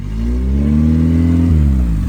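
A Honda Accord engine with a fault that leaves it idling rough runs loud and close, a steady droning rumble with a brief rise and dip in pitch midway.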